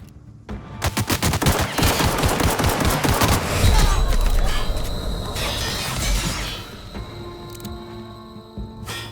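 Machine gun fire in a shooter video game: rapid loud bursts of shots stream in close and fast, swell into a heavy volley with crashes, then thin out into scattered reports and mechanical ringing.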